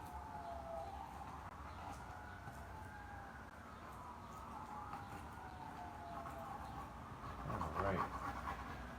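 Sirens wail steadily in the distance, their pitch slowly rising and falling throughout, with a person talking over them.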